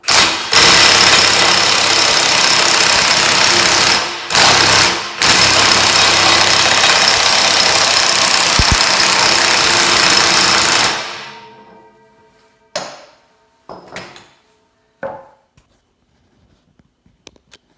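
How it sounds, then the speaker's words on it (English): Milwaukee 2967 impact wrench with a 2 3/4 inch socket tightening a nut on a trash mulcher disk chisel, loud sustained hammering bursts, one continuous run of about seven seconds after two short pulls, then stopping into quiet clanks. "We have our new 2967 impact here, Milwaukee, and 2 3/4 inch socket"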